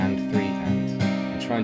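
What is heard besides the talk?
None of the usual background noises is heard.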